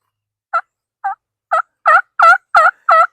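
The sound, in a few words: turkey call imitating hen turkey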